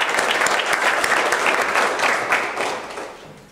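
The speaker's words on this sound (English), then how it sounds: "round of applause for you guys." Applause from a seminar audience, a full room of clapping hands that holds steady and then tapers off near the end.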